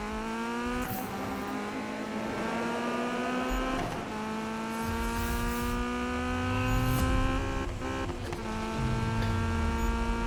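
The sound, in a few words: car accelerating in Need for Speed 2015 video game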